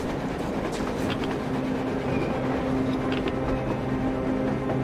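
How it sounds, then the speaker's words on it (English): A train in the video game Metro Exodus rumbles past in a continuous, heavy roar with rhythmic clattering and a low droning hum, steady and close. "It's a freaking train."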